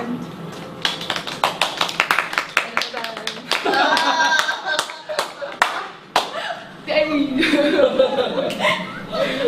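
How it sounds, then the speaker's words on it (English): A small group at a payroll training session claps in scattered bursts, close and uneven, with chuckles and speech mixed in between. "Clap."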